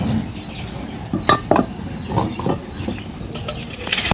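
A rohu fish curry simmers in a pan while utensils stir and clink against the metal, with light sizzling and scattered scraping taps close by.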